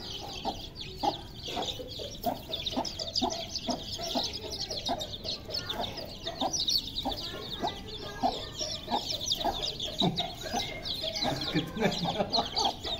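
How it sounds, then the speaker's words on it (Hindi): Hens cluck while their chicks peep, in a busy, continuous jumble of close poultry sounds as the birds are taken out of a coop. Voices murmur in the background. "ये मुर्गी हमने बाहर निकाली"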